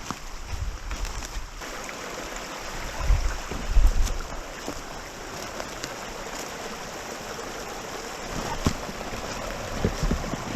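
Walking through shallow water in Dismal Creek in the Ozark National Forest of Arkansas, with continuous flowing and splashing water at close range and a few louder sloshes along the way.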